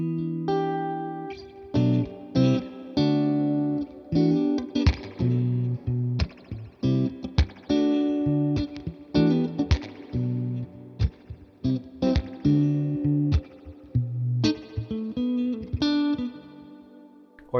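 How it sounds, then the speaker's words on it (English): An electric guitar played through a Tone King Imperial tube amp with reverb at half and dwell set a little higher rings out in plucked notes and chords with a spacious ambient tail, loud and continuous, no voices. "So I'm gonna turn the reverb up to about half and the dwell just past there, and you get almost this ambient sound."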